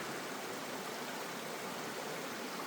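A waterfall pours into a pool beside a trail, a dense, even rushing roar that continues unbroken throughout with no voices.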